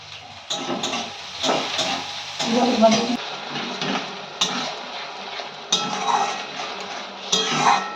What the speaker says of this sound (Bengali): এখন পেঁয়াজটা দিয়েছি ভাজতে